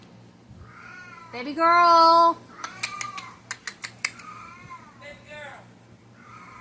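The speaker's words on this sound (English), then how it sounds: "I'm sorry, that's my cat." An elderly pet cat, nearly 20 years old, gives a loud drawn-out meow close by, then softer meows a few seconds later. Sharp clicks come in between, and a person speaks briefly.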